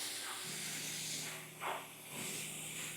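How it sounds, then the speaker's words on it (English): A pressurized keg sprayer hisses steadily as it mists detail coat onto half of a treated surface, one continuous close spray with slight surges in volume. "I am going to spray this half"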